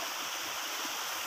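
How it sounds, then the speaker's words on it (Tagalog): Water of a mountain stream in the countryside near San Jose, Nueva Ecija, flows in a steady, continuous rush with a soft, even hiss and no breaks. "Yan yung source natin ng tubig sa bundok."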